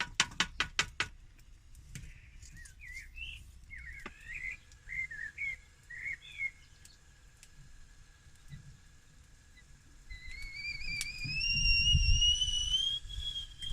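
A handmade frying pan heating over a burning fire lets out a thin, rising whistle near the end, faint and high, after scattered soft chirps and clicks. No voices.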